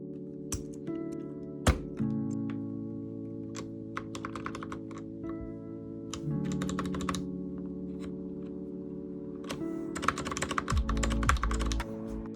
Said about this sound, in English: Let's test it on my keyboard.